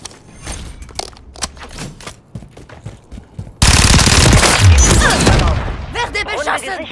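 Gunfire in Call of Duty: Modern Warfare 3, loud sustained bursts of automatic fire and explosive booms taking over halfway through after quieter scattered shots and game sounds.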